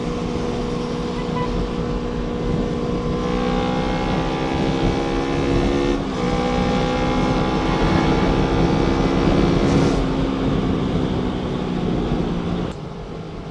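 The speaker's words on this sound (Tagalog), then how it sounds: "So sana naririnig nyo yung exhaust niya." An NK400 motorcycle with a full aftermarket exhaust runs steadily up close, its engine note rising and falling slightly in pitch as it idles and revs, loud and continuous throughout before easing off near the end.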